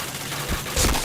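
Rapid gunfire from the online shooter Point Blank comes as a dense, loud burst of overlapping shots, swelling toward the end of the brief stretch.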